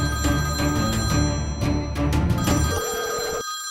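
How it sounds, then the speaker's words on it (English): A telephone rings loudly with a steady, repeating electronic bell pattern that fills almost the whole stretch, then cuts off abruptly near the end. "I think your phone is ringing."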